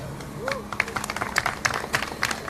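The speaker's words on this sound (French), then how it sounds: "La perle des Gabonais, je voudrais que vous vous applaudissez d'abord." A crowd at a Gabonese march claps in uneven bursts, with a voice and a whistle-like sweep over the applause.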